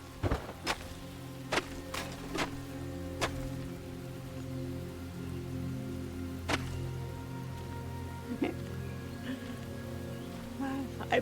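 Faint, steady rain in the video game Enshrouded patters over a low hum, with a few sharp ticks of drops scattered throughout.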